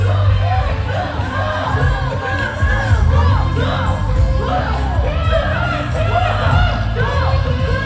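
Dense protest crowd shouting and chanting in front of the main gate of Seoul Dongbu Detention Center, a loud continuous roar of many voices with rising cheers and whoops throughout.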